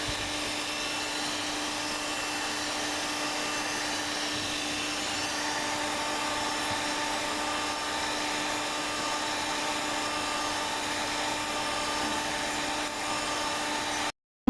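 An electric beater whips a mango ice cream mixture for homemade ice cream, a steady, continuous motor whine with a faint hum running unbroken for the whole stretch, with no talk over it.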